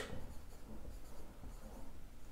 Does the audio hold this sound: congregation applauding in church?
no